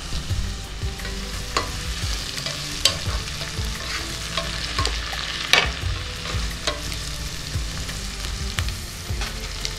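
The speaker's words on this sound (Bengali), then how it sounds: "পেঁয়াজটা একটু লাল করে ভেজে নেব। পেঁয়াজটা ভাজা হচ্ছে" Onions frying in a pan for Bengali mutton kosha, a steady close sizzle with frequent scraping stirs and occasional sharper clinks of the spatula against the pan, no voices.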